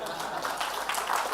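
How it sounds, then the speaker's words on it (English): Audience at a corporate full-year financial results announcement claps in a steady, moderately faint burst, continuous hand-clapping filling the short stretch. "You can also clap for EBITDA."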